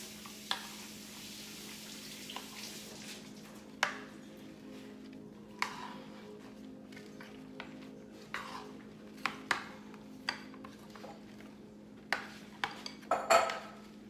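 Dishes and cutlery clink and clatter at a kitchen sink while guacamole and salsa are being prepared, with scattered sharp knocks over a steady low hum and no talk.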